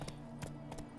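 Roach the horse galloping in The Witcher 3, a rapid hoofbeat rhythm of paired thuds repeating quickly, close and steady over a low game-world ambience.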